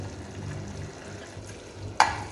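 Mashed roasted brinjal is stirred into mutton mince frying in a pan, making a soft, low sizzle and quiet stirring, then one sharp clack of the utensil against the pan near the end.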